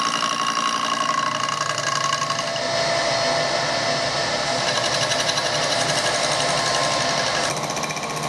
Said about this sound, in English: I've turned the spindle speed up and slowed the feed on. We're going for a final cut.